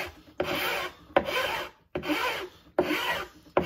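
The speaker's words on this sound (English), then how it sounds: "Just get it close and just rub off the excess." Filler being rubbed off into a corner of a DIY pantry build, a close, loud rasping scrape in four steady strokes with brief pauses between, no talking.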